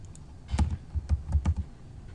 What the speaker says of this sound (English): I'm typing TR and enter to get into my trim command quickly